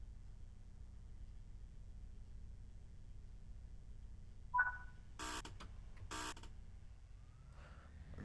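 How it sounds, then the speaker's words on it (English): A guard's buzzer in the Train Sim World 3 game on the Derby–Nottingham Midland Main Line, heard as two short, loud buzzes in quick succession over a quiet low cab rumble, after a brief beep. "Should get the guard's buzzer."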